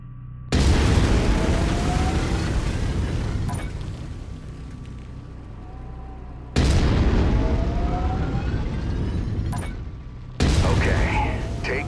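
A mech's autocannon fires in MechWarrior 5: Mercenaries, three loud sustained bursts of heavy rapid fire, each cutting off sharply, with brief quieter gaps between them.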